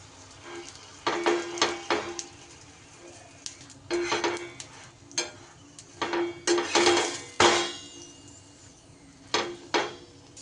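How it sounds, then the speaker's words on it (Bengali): Flour flatbread fries in about a spoonful of oil while a spatula presses and scrapes against the pan, giving soft sizzling under repeated bursts of scraping and clinking at close range. "এবার খুবই সামান্য অল্প 1 চামচ তেল দিয়েই ভেজে নেব।"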